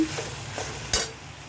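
Pasta tossed with ketchup in a hot pan on high heat, a soft stirring scrape over a faint sizzle, then one sharper clatter of the spoon against the pan near the end.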